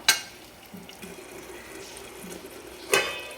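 Masala spices fry in a pan after water is poured in, a soft continuous sizzle with two sharp clatters, one at the start and one near the end.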